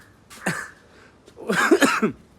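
A short cough, then a burst of several harsher coughs close to the listener from a person recovering from fever, with quiet pauses between.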